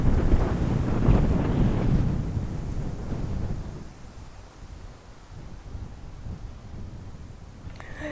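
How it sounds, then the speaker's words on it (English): Strong gusty wind buffets the microphone outdoors along a city walkway in Fukuoka, Japan, loudest in the first few seconds and easing to a steadier rumble afterward, with no voices. "You can see how windy it is."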